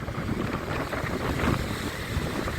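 Small autumn storm waves roll onto a sandy Black Sea beach, a steady close wash of surf blended with wind buffeting the microphone, with no talking.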